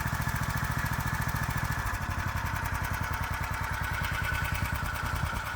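A Hisun UTV fitted with a swapped-in Predator big block engine idles in a steady, even, throbbing rhythm, loud and close throughout, with no talk.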